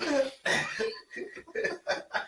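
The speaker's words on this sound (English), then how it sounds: "I had to clear my throat on that one." A person clears their throat with a couple of rough, cough-like bursts, followed by a series of short voiced grunts up close.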